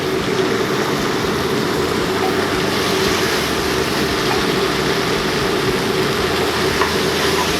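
Ingredients for homemade lagman noodles stir-fry in a hot pan, with a loud, continuous close-up sizzle and hiss that holds steady and dense throughout, without any talking.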